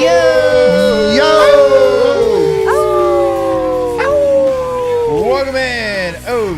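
A person imitates a dog's howl with long, wavering vocal glides that rise and fall, repeated several times at close range and fairly loud, sometimes breaking into yips.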